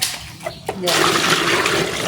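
Water gushes steadily into a drum outdoors on Bantayan Island, a continuous rushing pour that starts after a brief pause and runs on loudly to the end, with a voice speaking briefly at the start.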